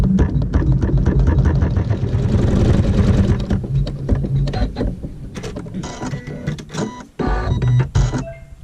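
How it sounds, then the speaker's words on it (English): A sewing machine stitches a tack-down on a pleat of a quilt block for an activity mat. The whirring mechanical run is loud and close and continues for several seconds, then breaks into short bursts. "And then we'll sew a tack down for that."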